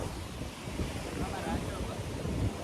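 Sea waves wash in at Kodi Bengare beach in Udupi, a loud continuous roar of surf buffeted by heavy wind noise on the microphone.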